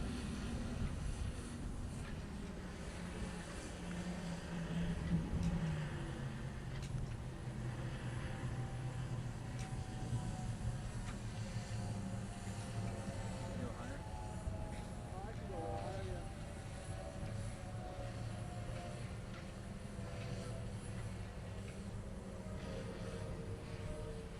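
A DJI S900 multirotor drone hovers and climbs indoors at the BB&T Center, its rotors giving a steady droning buzz with pitch shifts that rise and fall throughout, people talking underneath.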